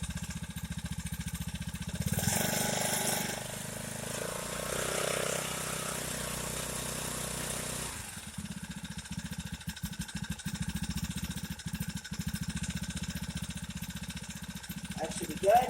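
A Bikeberry 49cc four-stroke motorized bicycle engine idles on half choke while warming up, a steady close low-pitched putter running throughout, with a brief louder rise of revs early on and a faint voice at moments.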